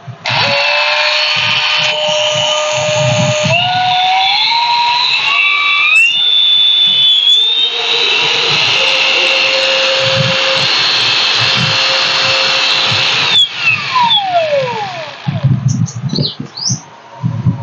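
A Japanese-market Makita power tool on a flat-pin plug whirs steadily after being switched on, its motor pitch rising and settling into a loud continuous drone, with some brief knocks and chirpy squeaks near the end.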